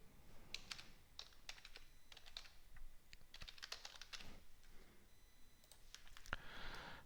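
Fingers type a file name on a computer keyboard in quick, irregular bursts of close, crisp keystrokes with brief pauses between groups, and one sharper click near the end.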